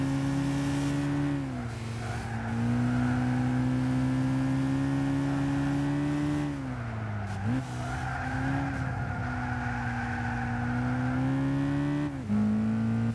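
A Honda S2000 race car in Gran Turismo 6 drones steadily at high revs, with pitch dips at gear shifts and tire squeal mixed in, loud and continuous throughout.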